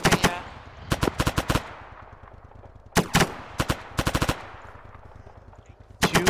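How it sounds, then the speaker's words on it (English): Machine gun fire in the military video game Arma 3, loud close bursts of rapid shots in several clusters separated by short pauses, with a faint background rumble. "that's just the thing that happens if you're shooting a machine gun"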